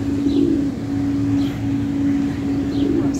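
Soft pigeon cooing in the background over a steady low hum, with a few faint bird chirps scattered across the few seconds.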